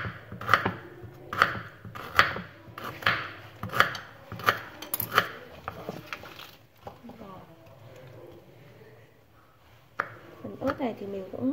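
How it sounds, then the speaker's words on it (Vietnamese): Lemongrass chopped finely with a knife for a snail dipping sauce: a quick run of sharp, close blade strikes against a board, then a pause with a voice talking, and a few more chops at the end. "Này thì mình cũng thái nhỏ ra như thế này để khi xay thì chúng ta xay nó sẽ dễ hơn"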